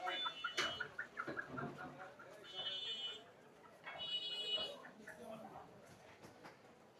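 Chickens cluck and squawk at a village market on a riverbank, close and intermittent, with people talking and a brief electronic tone in the background.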